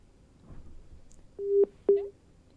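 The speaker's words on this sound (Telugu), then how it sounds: "వైసీపీ అధికార ప్రతినిధి హనుమంత్ రెడ్డి ఫోన్ లైన్లో సిద్ధంగా ఉన్నారు." A telephone line connecting into a live TV news broadcast gives two short, low, steady beeps in quick succession, clear against a quiet background.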